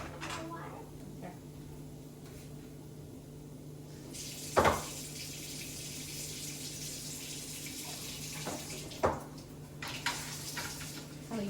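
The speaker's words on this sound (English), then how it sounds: "Let me add a little bit of water." Water is poured into a bowl in a home kitchen while a chicken breast meal kit is being prepared, a brief splashing pour with a sharp clink around the middle, under a steady background hum.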